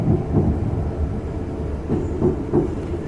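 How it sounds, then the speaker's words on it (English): Riding on board a train bound for Southampton: a low steady rumble of the carriage with soft periodic thumps from the wheels, continuous and close, no talking. "Welcome to another train journey."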